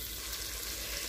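Meat searing in a pan for carne guisao, a steady close sizzle and frying hiss that holds even and unbroken throughout, with no voices.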